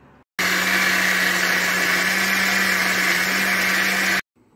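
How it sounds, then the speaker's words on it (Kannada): A mixer grinder grinds cucumber batter with water in one loud, steady whirring run of about four seconds, starting abruptly and stopping sharply, with a constant motor hum underneath. "ನಾವು ಇದನ್ನು ಸ್ವಲ್ಪ ನೀರು ಸಹ ಹಾಕೊಂಡು ಗ್ರೈಂಡ್ ಮಾಡಿ ತರ್ತೇನೆ"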